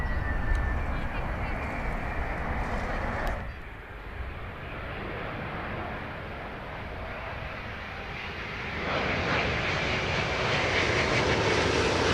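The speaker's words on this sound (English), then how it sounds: "There's like one plane each and every minute." An airliner arrives on runway 27L at London Heathrow, its engine roar loud and continuous throughout, dipping briefly in the middle before swelling again as the aircraft passes close.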